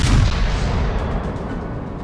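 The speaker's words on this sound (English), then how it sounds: "I'm going to bring all 9 guns to bear." Heavy booming gunfire from a battleship's nine main guns in the naval game World of Warships, one loud blast at the start that rolls out into a long, dense low rumble.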